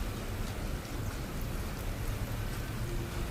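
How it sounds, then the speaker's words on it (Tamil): Light rain drizzling outdoors during the frying of prawn vadai, a steady soft hiss of drops filling the whole stretch with no voices. "மழை தூடுது நண்பர்களே."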